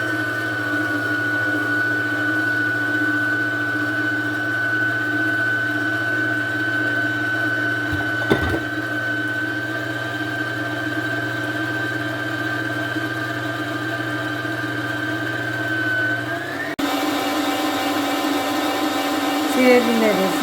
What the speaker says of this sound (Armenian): Սկզբից ցածրի տակ կդնեմ, հետո կամաց կարագացնեմ արագությունը միքսերի։